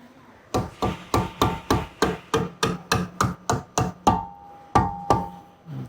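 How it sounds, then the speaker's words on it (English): A hammer strikes about fourteen times in a fairly even rhythm while fitting a rear axle bush on a van, loud and close, with a few ringing metallic blows near the end. "I'll just grab the hammer."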